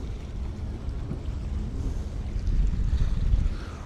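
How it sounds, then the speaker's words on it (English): Jet ski riding through Haulover Inlet in Miami, engine drone mixed with rushing water, wave slap and heavy wind buffeting the microphone, growing louder and rougher toward the end. "That was some extreme jet skiing."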